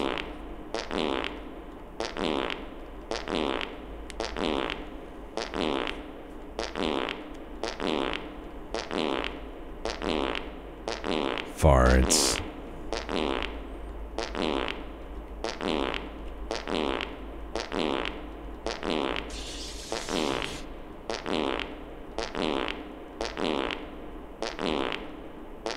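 Fart sounds in the video game Space Station 13, repeated in a steady rhythmic series of about twenty short blasts, fairly loud and alone, with one louder burst partway through.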